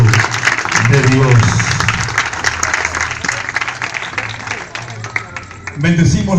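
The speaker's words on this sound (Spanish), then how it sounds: "vamos a darle un fuerte aplauso" Loud, sustained applause from a large church congregation during a sermon, with a voice and music running underneath throughout.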